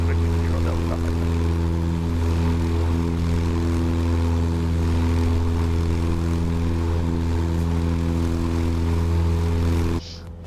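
A steady engine drone from an airliner in a flight simulator game, holding a constant tonal hum with layered harmonics for about ten seconds before cutting off abruptly.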